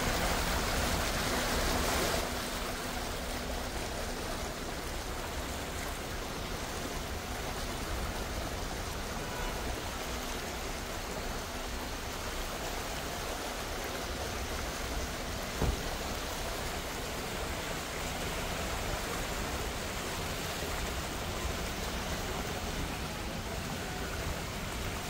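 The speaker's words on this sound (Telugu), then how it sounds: "సో చూస్తున్నారు కదా ఎంత పెద్ద వర్షం వచ్చిందో." Heavy rain pours down steadily in a continuous, even hiss that holds at a constant level throughout, with no speech and only a faint brief knock partway through.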